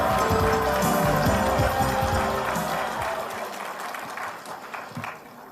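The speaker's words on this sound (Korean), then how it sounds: "여러분, 진성준 원내 수석 부대표를 큰 박수로 모시겠습니다" An audience at a Democratic Party performance report gives loud applause to welcome a speaker to the stage, the clapping strong at first and then thinning out and fading.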